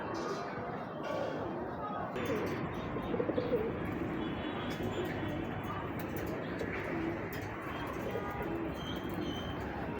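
Racing pigeons coo repeatedly at close range, soft throaty calls mixed with occasional chirps, while someone talks over them throughout.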